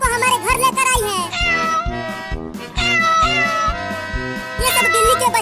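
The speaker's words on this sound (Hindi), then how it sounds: "बिल्ली अपने सभी बच्चों को हमारे घर लेकर आई है।" A mother cat and her kittens meow repeatedly, with high, wavering cries over a steady rhythmic music bed. The meows come in quick overlapping bursts, loud and close.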